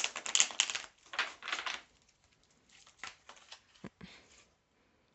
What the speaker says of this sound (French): Je tire de nouveau 13 cartes.